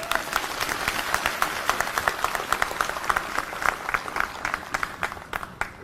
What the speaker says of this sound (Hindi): ज़ोरदार तालियां हमारी ऑडियंस के लिए